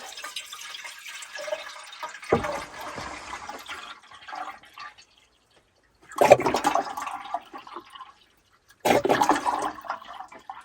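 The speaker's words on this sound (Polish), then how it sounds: "Dolejemy zimnej wody." Cold water pours into a container in several separate bursts inside a camper van, a splashing, gurgling stream that stops between pours, fairly close and moderately loud; no talking.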